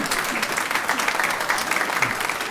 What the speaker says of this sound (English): please withhold your applause until the end of part one